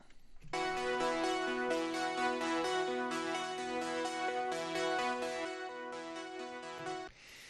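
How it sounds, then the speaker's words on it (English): A bright synthwave arpeggiator synth plays a steady arpeggiated pattern of repeating notes over a sustained bed, continuous and fairly loud, with no voices. "now this Arp Synth part, it sounds like this."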